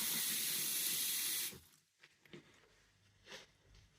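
Tap water pours into a container of boiling water for cleaning a bike frame. It makes a loud, steady rushing splash for about a second and a half, then cuts off, leaving faint clinks and handling noises.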